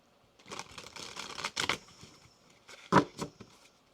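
Tarot cards shuffled by hand in a run of soft riffling and flapping bursts, with a sharper snap near the end, close and fairly quiet, with no one talking.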